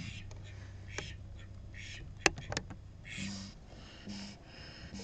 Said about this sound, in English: You're a fierce duck.